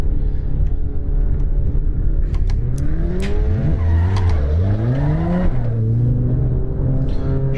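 A Volkswagen Golf race car in the iRacing sim game at Donington, with a loud engine note that rises and falls through the gears, and brief tire squeal as it corners, with no gaps in the sound.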